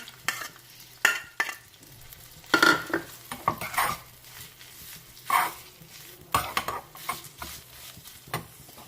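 Chicken pieces frying in a pan while being stirred, with intermittent scraping strokes and sizzle bursts over a quiet kitchen background; no one speaks.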